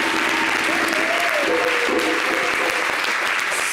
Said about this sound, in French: Est-ce qu'on peut applaudir ça?